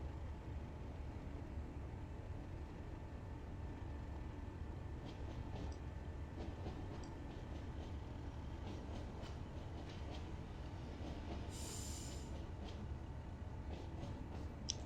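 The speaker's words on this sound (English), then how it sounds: "There goes the 3 Turbot wagons." Three Turbot freight wagons roll past on a West Cornwall line beside a train hauled by a Class 37, a steady low rumble of wheels with faint rhythmic clicks and brief higher squeals, heard from aboard at a close, even level.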